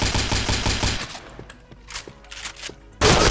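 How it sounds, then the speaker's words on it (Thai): Rapid-fire pistol shots in a video game, a fast rhythmic burst of loud repeated shots in the first second, then quieter scattered clicks and distant pops, ending with a sudden loud blast. "มันเป็นปืนพกที่ยิงรัวได้เหมือนพวกปืนกลเลย"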